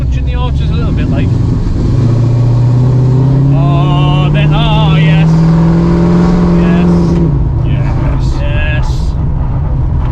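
A V8 American muscle car engine idles slightly high with a carburettor still being tuned, a steady loud rumbling burble that swells briefly, while someone talks over it.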